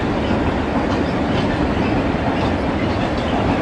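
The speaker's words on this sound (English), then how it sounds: "Here comes a train." A close, loud commuter rail train passes with a dense, steady roar and clickety-clack of wheels over the rails.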